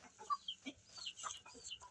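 A hen clucks close by in a series of short, quick, uneven calls, fairly quiet, with no talk over it.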